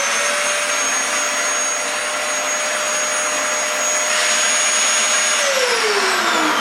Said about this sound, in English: you need to get out the vacuum cleaner and attach the brush attachment,